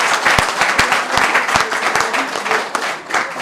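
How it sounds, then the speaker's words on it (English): Crowd applause at a political press event in Ghana, loud uneven clapping with distinct sharp claps standing out, tapering near the end. "Let's clap for them."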